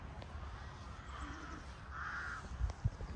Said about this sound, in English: Up there, we got a lot of crows.